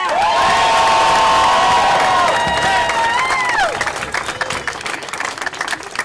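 A large outdoor protest crowd cheers, whoops and applauds loudly at close range, the roar sustained for a few seconds before thinning into scattered clapping and shouts.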